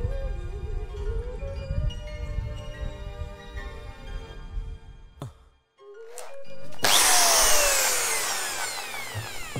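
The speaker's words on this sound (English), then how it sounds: "it hurts to drill into a freshly finished fiberglass painted surface" A power drill whines and revs for several seconds, pauses, then bites in with a loud, rough grinding burst as it bores through freshly painted, polished fiberglass on a 1964 Glastron ski boat.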